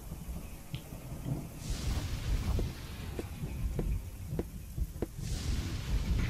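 Rumbling thunder from a lightning storm in the video game Chaos auf Deponia, low rolling booms over steady rain-like noise with a few sharp cracks, moderately loud and continuous throughout, with no talking.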